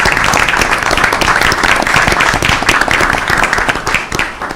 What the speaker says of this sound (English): Let's give a round of applause for Mr. Bigelin.